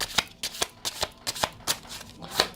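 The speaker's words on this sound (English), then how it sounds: "Oh, and these cards shuffle so beautifully." Tarot cards being shuffled by hand, close and crisp. It comes as a run of quick riffling bursts at an uneven rhythm, with no talking.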